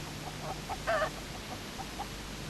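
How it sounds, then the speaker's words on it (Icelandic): Prize laying hens on a farm in an animated children's programme cluck softly, a handful of short, scattered clucks with one slightly fuller cackle, over a steady background hiss. "Þetta eru snilldar hænur, sagði Palli."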